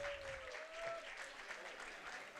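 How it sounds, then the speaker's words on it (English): Clapping from a hall audience at an IEEE Delhi Section conference inaugural ceremony, fairly faint and distant, holding steady throughout with a brief tonal note near the start. "A huge round of applause"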